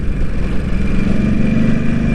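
A Ducati motorcycle engine, freshly ECU-flashed, runs loud and close with a steady, throaty drone throughout, pitch holding fairly constant.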